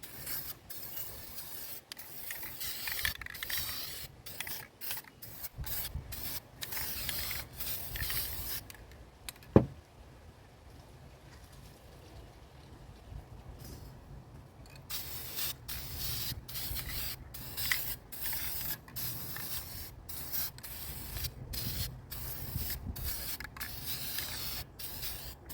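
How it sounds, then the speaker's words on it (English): Blue spray paint hisses onto a wreath form in quiet, repeated bursts of varying length, with one sharp click partway through and a brief pause before the spraying resumes. "Spray it blue as well."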